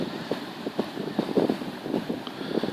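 Wind gusts across a lake during a bait boat run, a steady breathy rush with soft buffeting swells and no voices.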